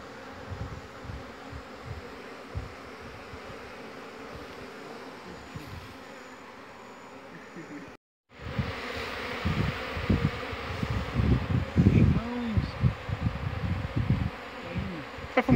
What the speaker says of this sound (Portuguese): as abelhas estão entrando tudo agora